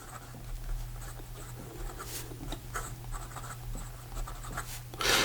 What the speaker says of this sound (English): So here we go with the writing sample for the Montegrappa American Dream.